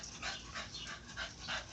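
Dogs in a home garden give soft whimpers and yips in a few short bursts, faint and somewhat distant, with no voices over them.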